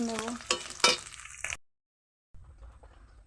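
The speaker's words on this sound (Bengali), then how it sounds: "চিংড়িটাকে লাড়িয়ে সারিয়ে এপাশ ওপাশ করে একদম ভালোভাবে ভেজে নেব।" Shrimp fry in oil in a wok while being stirred, giving a few scraping, clinking strokes of the utensil over a soft sizzle, then a short silence before a fainter sizzle returns.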